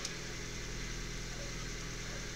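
A Suzuki Swift 1.6L engine fitted with a Weber 32/36DGEV carburetor idles at around 800 RPM, giving a steady, even hum with no breaks in rhythm, close and continuous throughout.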